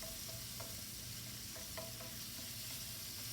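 Aromatics sizzle faintly in a hot pan while being stir-fried, a low, steady frying hiss with soft scrapes of stirring and no voices.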